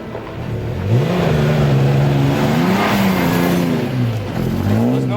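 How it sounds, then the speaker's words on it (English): A 4-litre V6 Toyota Hilux engine revs loudly up close at a 4x4 event, its pitch climbing, holding and dipping in several sweeping surges with no talk over it. "And next up we have MD Williams with his 4-litre V6 Hilux"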